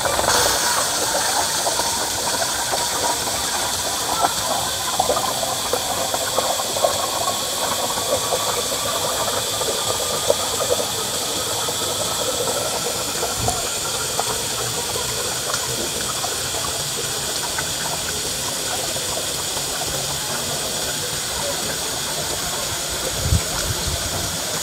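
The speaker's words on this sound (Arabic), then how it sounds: "كده انا مليت البخاخة بتاعتي بال5 لتر مية." Water pours steadily into a 5-liter garden sprayer being filled for a calcium fertilizer mix for tomatoes, a continuous close rushing gush with a low motor-like hum beneath, lasting the whole stretch.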